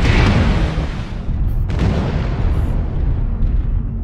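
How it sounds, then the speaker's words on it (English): Artillery strike in a MechWarrior game with Atlas and Timberwolf mechs, loud rolling explosions and booms rumbling continuously, with a few sharper blasts cutting through the dense low roar. "Artillery strike."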